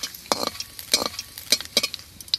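Bay leaves hit hot oil in a wok with bursts of sharp crackling and popping, about five loud spurts over a quiet sizzle, close by.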